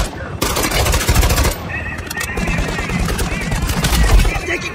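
Rapid bursts of automatic gunfire from a squad-based shooter video game, loud and close, with several overlapping volleys and shots running almost continuously.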